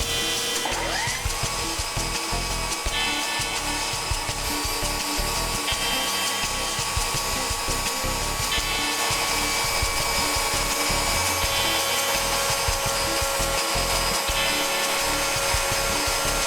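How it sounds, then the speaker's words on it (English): Table saw cutting material for a mini fridge safe build, a loud sustained high whine of the spinning blade close by, with steady grinding as the stock is fed through, no talking. "I'm going to take it over to the table saw and cut 1/4 inch off of the sides of those"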